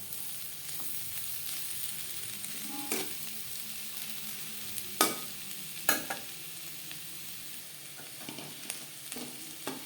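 Potatoes with onion, salt and slit green chilli fry on a medium flame with a soft, steady sizzle, broken by occasional scraping stir strokes in the pan.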